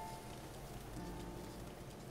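Light rain patters steadily in the open world of The Legend of Zelda: Breath of the Wild, a faint, even hiss of drops in the distance with no voices.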